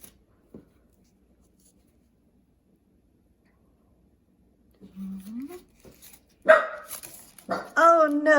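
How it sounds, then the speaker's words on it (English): A dog barks indoors, a few short sharp barks from a little distance at the end, mixed with a person's voice after a long quiet stretch. "the dog barked through me"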